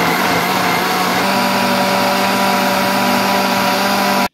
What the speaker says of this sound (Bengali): আমি একটু বেশি সময় ব্লেন্ড করলাম, কারণ এটার মধ্যে নাট আছে